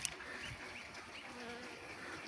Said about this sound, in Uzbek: Mana ari o'tiribdi.